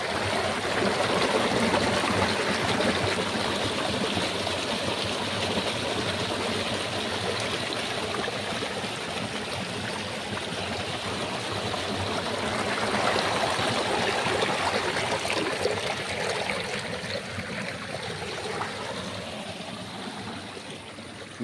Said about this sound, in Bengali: সাউন্ডটা দেখেন, ঝর্ণার সাউন্ডটা যে হয় ওই সাউন্ডটা শুনেন।